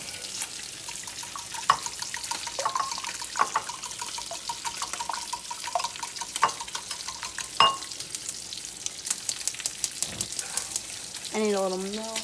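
Bacon sizzling in a frying pan in a home kitchen, continuous crackle with sharp pops and utensil clicks throughout, a short burst of talking near the end.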